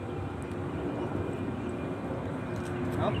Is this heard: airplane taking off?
yes